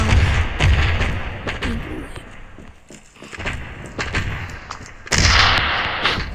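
A grenade explodes in the mobile shooter Standoff amid other in-game gunfire, with repeated heavy booms and bursts of firing that rise and fall in loudness, ending in a loud blast.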